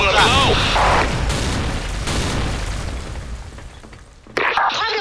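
A grenade goes off in a video game with loud, booming blasts and rumbling noise while someone talks excitedly over it, followed by a sudden fresh burst at the end.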